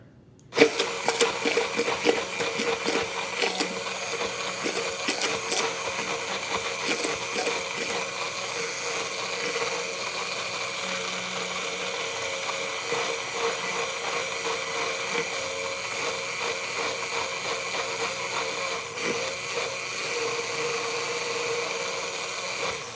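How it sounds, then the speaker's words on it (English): A handheld immersion blender whirs steadily and loudly for the whole stretch while emulsifying homemade mayonnaise, a constant motorized buzz with a slight grinding edge. "you need to force it to emulsify with the immersion blender."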